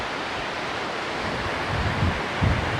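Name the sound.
Sutlej river flowing fast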